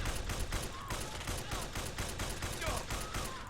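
Unsuppressed Springfield Armory M1A rifle fire from the video game Fallout 4, a rapid run of sharp shots fired in quick succession, fairly faint and unbroken across the clip.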